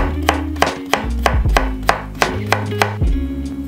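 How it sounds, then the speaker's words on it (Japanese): A knife slices a cucumber thinly on a cutting board, with about ten sharp, evenly spaced chopping taps close by and no talking. "きゅうりは縦半分にして薄切り。"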